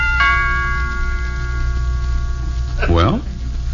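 A two-tone chime doorbell rings once in a 1954 old-time radio family comedy, its bright sustained tones ringing out clearly, followed shortly by a brief voice.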